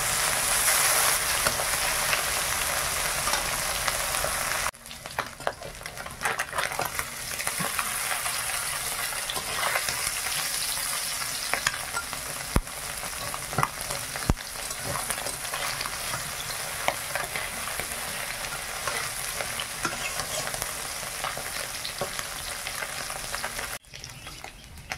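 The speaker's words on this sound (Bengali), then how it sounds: "এই মাছগুলো ভাজা হয়ে গেছে, তুলে নে" Small puti fish, caught with a fishing rod, fry in oil in a pan, giving a loud, continuous crackling sizzle with occasional sharp pops close by.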